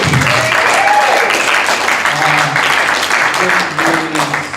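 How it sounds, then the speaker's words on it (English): A continuous wash of audience applause fills a Q&A session honoring Eric Bailey, loud and dense throughout, with voices speaking and murmuring underneath the clapping. "give Eric another huge round of applause"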